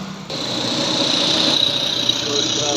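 An Aceh bus engine revs hard at full throttle, producing a loud, sustained drone with a high mechanical whine that builds and holds throughout.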